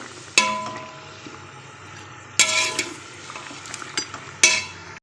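Desi chicken with onion, yogurt and ginger-garlic paste fries in a pot, giving a soft steady sizzle. A spoon scrapes the pot in three sharp strokes spaced about two seconds apart, with quieter clinks between.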